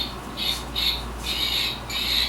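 A bird squawks close by in a repeated series of four harsh, loud calls with short gaps between them, and no voices are heard.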